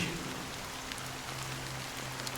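Rain falling in Honkai: Star Rail, a steady soft patter of drops on surfaces with a low hum beneath, faint and continuous with no talking.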